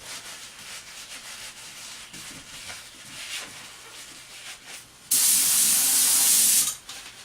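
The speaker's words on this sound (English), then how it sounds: "This is just some lacquer thinner that I put in this little HVLP gun, so I can really control how much is going on there." A burst of lacquer thinner from a small HVLP spray gun onto car wheels gives a loud, steady hiss lasting under two seconds near the end, with quieter shuffling and handling noise before it.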